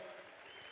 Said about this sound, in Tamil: எல்லாரும் கொஞ்சம் கரகோஷம் கொடுத்தீங்கன்னா